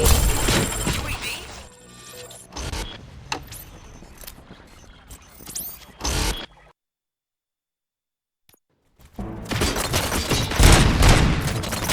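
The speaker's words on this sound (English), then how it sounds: "Gunshots? What's going on?" Bursts of gunfire from the RoboCop: Rogue City video game, loud dense volleys with booms and mechanical clatter, cutting to near silence midway before another heavy barrage resumes.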